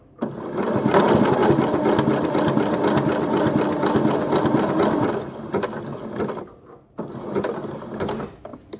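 A sewing machine stitching a zigzag appliqué runs in a fast, steady mechanical whir with rhythmic needle clatter, pauses briefly, then starts again with a few shorter bursts.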